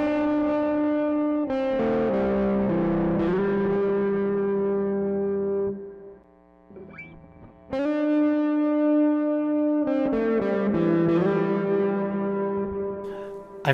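A distorted electric guitar through a Walrus Audio Melee pedal, distortion feeding into reverb, plays sustained chords and notes drenched in reverb, loud and continuous, with a brief quieter gap midway before the chords return.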